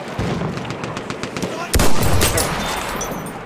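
Machine gun fire in Battlefield 1 during a World War I infantry conquest match: rapid, loud bursts of automatic shots with a dense, rattling rhythm, swelling louder midway amid battlefield noise.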